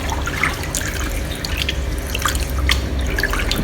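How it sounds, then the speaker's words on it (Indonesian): Water runs and drips steadily as a fish tank holding a channa red maru snakehead is drained, a continuous close trickle with scattered splashy drips and no talking. "Sambil kita bantu supaya airnya cepat"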